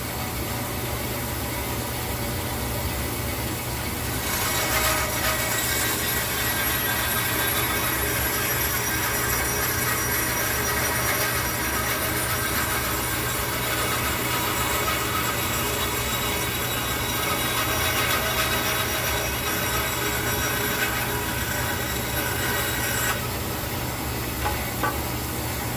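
A bandsaw cuts through a piece of wood being trimmed into small wedges, giving a loud, continuous rasping whine that holds steady for about twenty-five seconds with no voices over it.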